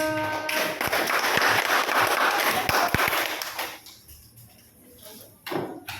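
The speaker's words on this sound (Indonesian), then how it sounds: "tepuk tangan buat kelompok yang pertama" A classroom of students and teacher clapping for the first group after a teaching-practice presentation, a dense burst of applause lasting about three and a half seconds that fades out, followed by a few scattered claps.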